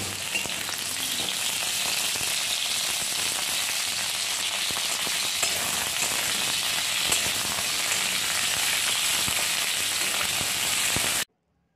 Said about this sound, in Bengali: এদিকে সব রকম সবজিগুলো ভেজে নিলাম